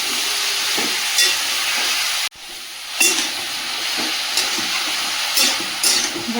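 Vegetables and fish roe sizzling in spice paste for chorchori, a steady frying hiss broken once by a sudden drop, with light stirring scrapes and clinks recurring at intervals.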